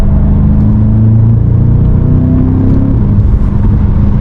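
A BMW M5 Competition engine drones from inside the cabin with the windows closed on a late-night cruise, a loud, steady low rumble with gently shifting tones as revs rise and settle, no talking.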